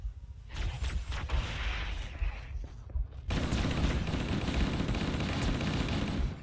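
Explosions and gunfire in the Halo: Combat Evolved game during a firefight, with a grenade thrown at enemies; loud dense bursts and booms run continuously, with a heavier blast-like rise about halfway through.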